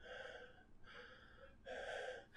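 A voice imitates a gasping breath with three strained, wheezy inhales, each raspy and breathy, the last the loudest, heard faint and close with no other talk.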